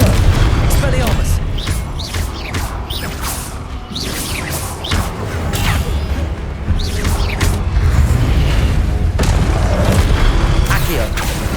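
Spell blasts boom and whoosh in a Hogwarts Legacy video game battle, a dense, loud barrage of impacts and swishes over constant action noise, with voices calling out during the fight.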